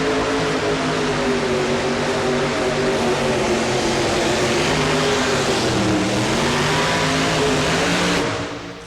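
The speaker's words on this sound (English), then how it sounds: "Ready to go with that Corvette" A Corvette drag racing car, the old Leo K's machine, launches off the starting line and roars down the strip at a farm machinery show, a loud sustained engine blast with shifting harmonics that cuts off near the end.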